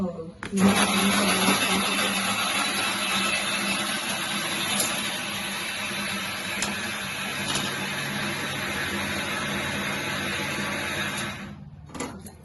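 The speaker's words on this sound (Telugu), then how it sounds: "దీన్ని మిక్సీ చేస్తున్నామండి" A mixer grinder whirs steadily and loudly for several seconds with a constant motor drone, grinding jaggery with a little water, then cuts off near the end.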